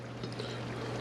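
Pasta water pouring into a pan during cooking, a steady, quiet stream of splashing liquid lasting about a second, with a low background hum and no talking.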